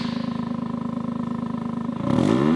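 A 2023 Toyota GR Corolla engine with a new aftermarket exhaust rumbles steadily with exhaust valves closed, then revs up louder near the end.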